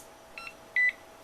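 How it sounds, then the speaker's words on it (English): Two short electronic beeps from an EDS-88A capacitor analyzer, a faint one followed by a louder, steadier tone, over a quiet room hum. "The cap analyzer beeps anywhere from 1 to 5 beeps depending on the scale."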